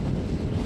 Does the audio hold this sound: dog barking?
no